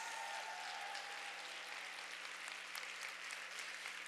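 Audience applauding at a women's event in a hall, dense steady clapping that fills the whole stretch at moderate level, with no voices over it.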